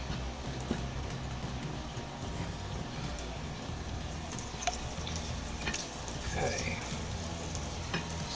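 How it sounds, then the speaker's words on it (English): Chicken fried steak fries in hot oil with a steady crackling sizzle, fairly faint under room noise, with a few clinks and a brief voice. "I'm going to fry it first and then I'm going to put it in the oven"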